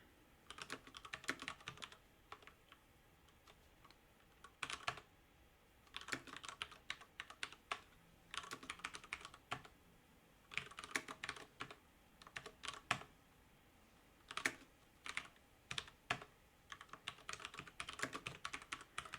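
Bursts of typing on a computer keyboard while entering test code, quick clattering keystrokes in irregular clusters separated by brief pauses, close and fairly quiet with no talking.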